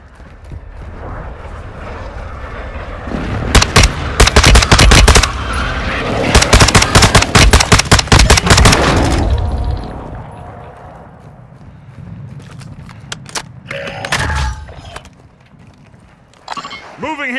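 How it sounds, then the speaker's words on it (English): Heavy automatic gunfire in rapid bursts with deep booming airstrike explosions rumbling underneath, amid Call of Duty Warzone 2.0 (Modern Warfare II) combat; the loud firing comes in two main stretches, then fades to quieter battlefield noise with scattered shots. "Friendly airstrike in the AO."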